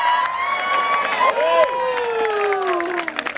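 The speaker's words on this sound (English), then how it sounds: "We got to cheer her on." A rodeo crowd at the 50th anniversary Austin Thresherman's Reunion cheers for a young girl in the mutton busting event, with steady crowd noise and a loud, drawn-out shout rising over it.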